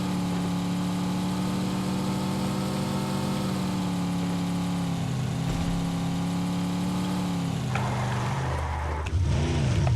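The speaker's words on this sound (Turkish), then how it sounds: "Umarım arabanın sesi fazla gelmiyordur." A steady car engine in PUBG Lite hums at a constant idle for most of the clip, then shifts pitch near the end as if revving slightly.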